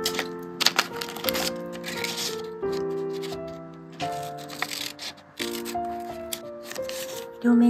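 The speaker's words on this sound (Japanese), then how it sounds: "両面テープつけて" Double-sided tape is peeled and pressed onto folded paper for a binder journal, giving close crinkly tearing and rustling bursts with brief tonal squeaks between them.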